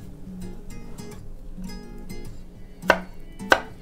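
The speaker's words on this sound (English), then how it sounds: "Chop that in a few thick slices like that." A knife chopping fruit into thick slices on a cutting board, quiet handling sounds followed by two distinct, sharp chops near the end, close and without speech.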